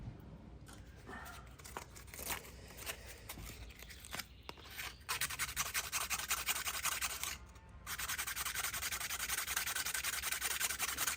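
Sandpaper rubbing metal edges of a clutch part for a Woodland Mills HM130 Max sawmill, a faint, close scratchy rasping in irregular strokes that becomes steadier and more continuous after a few seconds.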